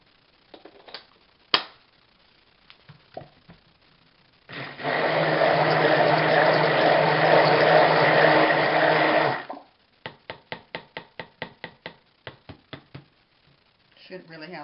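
A stick blender whirs steadily for about five seconds through cold process soap batter, with scattered taps and knocks of the tool against the container before and after.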